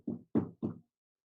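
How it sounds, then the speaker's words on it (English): Three soft knocks on a door in even succession, close and muffled, followed by silence. "you hear a slight knock on your door."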